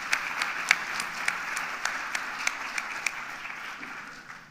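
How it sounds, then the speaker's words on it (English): An audience at a HUD and USDA session applauds, a steady wash of many hands clapping at moderate distance, lasting several seconds and tapering slightly at the end. "if we just might give an applause"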